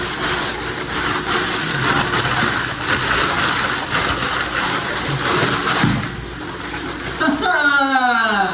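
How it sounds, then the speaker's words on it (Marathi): A kitchen tap runs with a steady, broad rushing hiss that continues throughout, and a voice comes in briefly near the end. "नळ चालू करतो."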